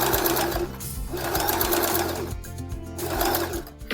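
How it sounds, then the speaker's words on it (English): Sewing machine stitching back over a ripped-out seam on dinosaur-themed dungarees, a close, rapid mechanical chatter that runs in bursts with brief pauses between runs. "I'm just going to sew like that over the top of the bit that I've ripped out"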